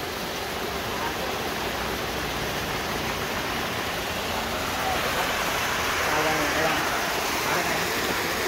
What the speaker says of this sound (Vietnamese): Cái lỗ nhỏ như này cũng chảy rồi nè.